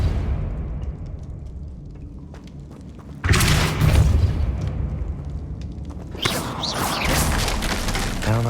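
A Depulso spell in Hogwarts Legacy knocks down a precarious hanging object, giving a loud booming impact, then a second heavy crash with rumbling debris a few seconds later, after a quieter stretch.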